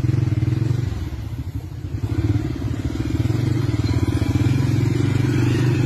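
A motorcycle engine runs steadily and close by as it is ridden, a loud continuous low drone with a rattling edge holding for the whole stretch, with no clear speech over it.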